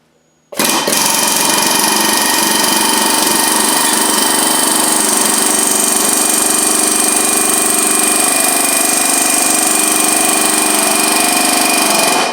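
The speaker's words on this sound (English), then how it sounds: "We take our air chisel and our little guide." An air chisel veins a leaf on a forged oak branch, kicking in abruptly after a brief quiet and running as a loud, continuous pneumatic buzz right up close, with no talking.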